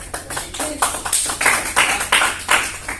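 A classroom of students claps in irregular, overlapping bursts, a close and moderately loud ripple of applause lasting a few seconds.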